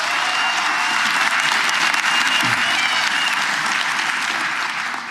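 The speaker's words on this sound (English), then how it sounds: "Let's give them another round of applause." Dense, loud applause from a large crowd at a political provincial congress fills the whole stretch, steady and sustained without letting up.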